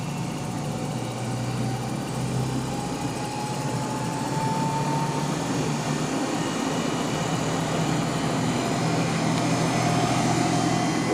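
A series-excited DC motor speeding up under rising voltage, giving a steady, fairly loud machine whine and hum that holds with a faint rising tone, with no voices.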